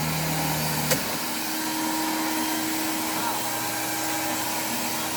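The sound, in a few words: 1989 Hoover Dimension 1000 canister vacuum running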